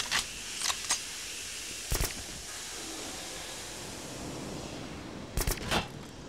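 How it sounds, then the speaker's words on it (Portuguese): Distant sniper rifle shots crack in the shooter game Black, a handful of sharp isolated reports, some in quick pairs, over a steady hissing background. "Só os tiraços de sniper lá de longe."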